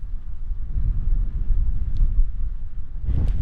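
Strong wind buffeting a microphone on a Lake District mountain near the Langdale Pikes, a low, steady roar with gusty rises, close and loud.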